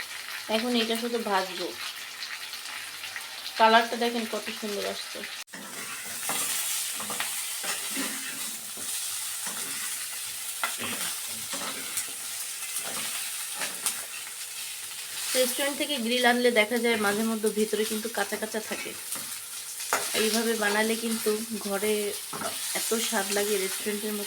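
Chicken pieces fry in a small amount of oil, a constant close sizzle and crackle running beneath intermittent talking, with occasional stirring.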